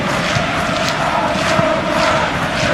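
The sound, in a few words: stadium crowd moaning and groaning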